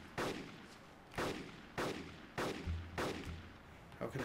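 Heavy gunfire in the video game Arma 2 sounds as roughly five booming, echoing shots spaced about half a second to a second apart, with no voices over them.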